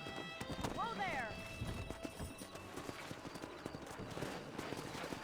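Horses in the video game Red Dead Redemption trot with steady, close clip-clop hoofbeats, and one horse lets out a short whinny near the start, all under a faint background soundscape.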